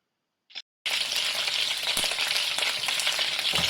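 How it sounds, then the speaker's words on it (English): Lamb shanks sear in hot oil in a cooking pot: after a brief silence and a small clink, a loud, close, continuous sizzle and crackle takes over and holds steady. "add in the lamb shanks. Let this cook for a while until it develops a bit of color."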